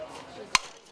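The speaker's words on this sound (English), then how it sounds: "The crack of the bat" A softball bat hitting the ball for Elon's softball team, a single sharp, bright crack standing out over faint background murmur.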